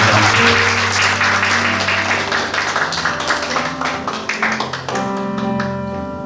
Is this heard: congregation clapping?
yes